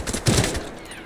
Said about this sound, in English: Oh, I shot him once.